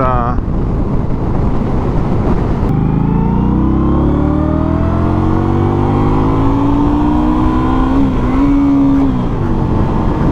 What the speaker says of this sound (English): she revs out actually quite a bit